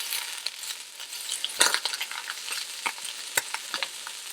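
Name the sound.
chicken frying in a pan, flipped with a fork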